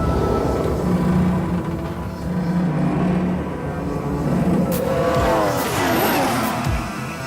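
A Formula 1 car at the Red Bull Ring brakes hard downhill from high speed into a sharp right-hander, engine note dropping through downshifts with a burst of tire noise, then revving back up on exit.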